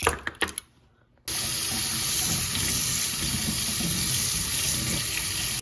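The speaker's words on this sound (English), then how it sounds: "run it under some cold water, and defrost these little cubes" A few clinks come first, then cold tap water starts suddenly and runs hard and steady over a fine shrimp net in a sink. The gushing is close, loud and continuous, with no talk.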